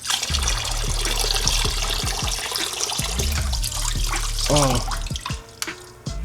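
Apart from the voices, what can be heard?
oil draining from GSXR 600 drain plug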